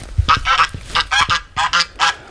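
Backyard geese honk in about seven loud, close, nasal bursts, some doubled, with short gaps between them and no talking.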